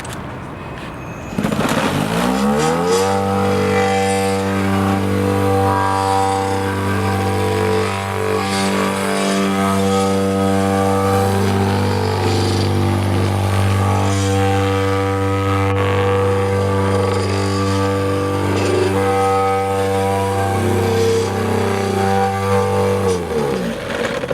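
A Wacker Neuson battery-powered compactor runs steadily at a trade show, giving a loud, continuous motorized hum with a strong low drone and a few faint shifts in pitch, with no talk over it.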